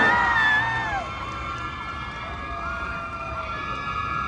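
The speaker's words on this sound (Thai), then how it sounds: "ขอเสียงปรบมือ" A packed crowd at a Central Embassy fan event cheers and shouts loudly, with high excited squeals on top, then settles into a steady, sustained roar of voices.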